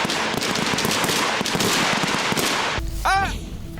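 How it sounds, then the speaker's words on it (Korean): Loud, close, continuous gunfire crackles in rapid bursts during a South Korean army rapid response brigade medical platoon training scenario, followed near the end by a brief high sweeping wail. "총소리와 비명이 난무하는 공포의 현장."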